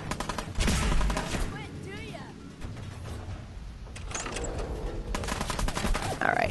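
Repeated gunfire in the post-apocalyptic video game Fallout 4, a dense crackle of shots throughout with brief swells, mixed with game effects and a player speaking.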